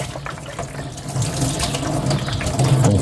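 Clean water from an air conditioner poured while cleaning a Nepenthes plant during repotting, a short close splashing trickle that grows slightly louder.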